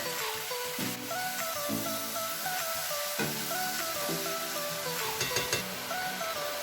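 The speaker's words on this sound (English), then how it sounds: "Now adding the lamb," Diced lamb sizzling in a hot pot with olive oil, onions and garlic, a steady close crackle and hiss broken by repeated clinks and scrapes of stirring.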